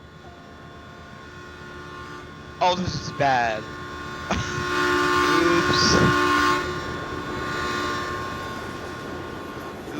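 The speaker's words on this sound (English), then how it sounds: "I hear train." A train in Farming Simulator 19 passes with a steady rumble and hum while its horn sounds in a few short blasts, then a longer one. Someone talks briefly over it.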